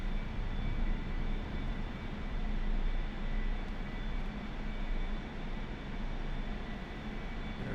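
The steady, loud roar of an A-4E Skyhawk jet engine in the DCS World flight game holds throughout as a broad, continuous rumble and whine while the throttle is eased back in a dive.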